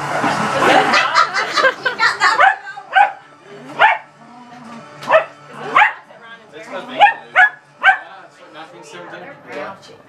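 Dogs bark in a series of sharp, spaced barks during lively play, starting among loud laughter and excited voices, then continuing as separate close barks with pauses between them.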